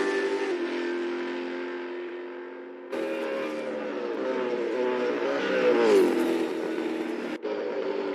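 Race cars pull out of the pits in Assetto Corsa, a sustained, fairly loud engine whine that shifts pitch through gear changes and swells as cars accelerate, with abrupt cuts between different car sounds.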